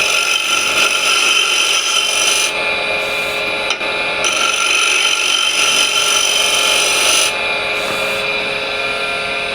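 Notched scraper cutting a decoration into the bottom of a turned wood piece on a lathe, a continuous loud rasping hum of spinning wood and tool contact, with brief changes in tone as the cut varies.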